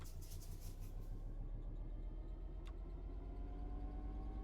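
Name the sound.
Class 66 diesel locomotive pulling away, from video game Train Sim World 4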